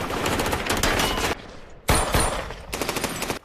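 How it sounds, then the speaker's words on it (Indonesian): Dense bursts of automatic gunfire in a shootout from an action film, loud and close, in long rapid volleys broken by a brief lull before firing resumes. "Terjadi baku tembak antara John dan Vigo and the gang"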